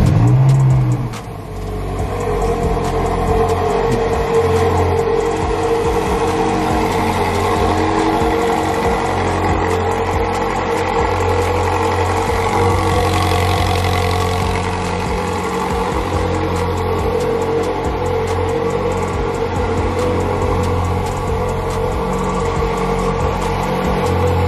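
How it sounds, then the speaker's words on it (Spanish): A Ferrari 458 Speciale's naturally aspirated V8 runs steadily at close range, a loud continuous rumble that holds nearly unchanged throughout with no voices. "ahora sí escuchemos ese V8"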